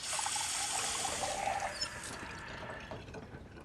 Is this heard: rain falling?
no